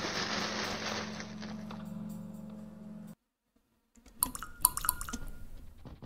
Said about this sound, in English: An echo of lone water drops fill the air?